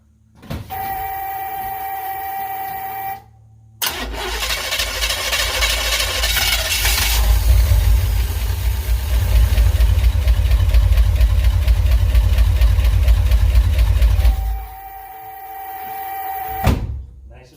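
A 1969 Chevrolet Impala engine with a new starter and new flex plate cranks and fires loudly up close, settling into a steady, rumbling idle for about ten seconds before shutting off and briefly cranking again.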